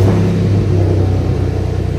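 A 2010 Chevy Camaro engine with a misfire runs close by as a loud, uneven low rumble with a rough, pulsing beat.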